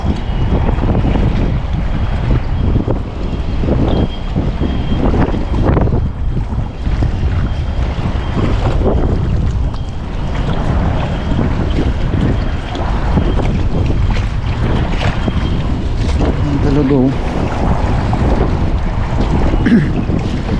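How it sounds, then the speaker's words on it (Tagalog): Strong wind buffets a fishing boat at sea, a continuous loud rumbling roar with gusty swells and water noise throughout, and a brief faint voice near the end. "Pag ganito po kasing malakas ang hangin"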